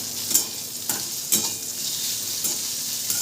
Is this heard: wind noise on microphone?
no